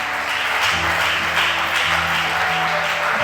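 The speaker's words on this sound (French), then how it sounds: "Est-ce que vous pouvez acclamer pour la parole de Dieu?" A church congregation applauding during a sermon, a steady dense wash of clapping that fills the space with a low hum of voices underneath.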